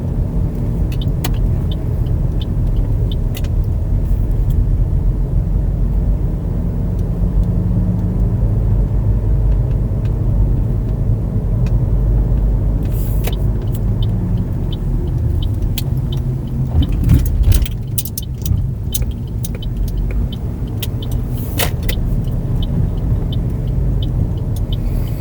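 A car drives through city streets in Honolulu, Oahu, with a steady low engine and road rumble throughout and a few brief clicks and knocks inside the cabin.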